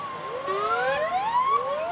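A BC Ambulance Service ambulance sounds its siren in the Vernon Winter Carnival Parade, several overlapping wailing tones sweeping up and down. It is loud and steady, and no voices are heard over it.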